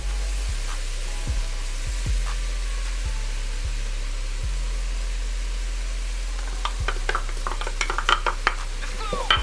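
A spoon slowly stirs flour into a sizzling clam chowder base in a pot, giving soft scraping strokes over a steady low frying hiss, with a few brighter clinks toward the end.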